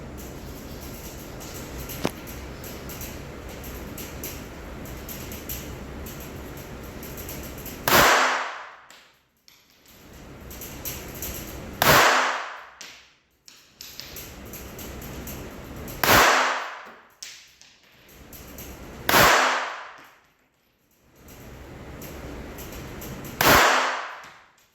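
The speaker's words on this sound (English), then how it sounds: "Because we need to practice all types of shooting." Handgun shooting practice in low light, five loud, sharp gunshots spaced a few seconds apart, each followed by a brief ringing decay, with quieter background noise between shots.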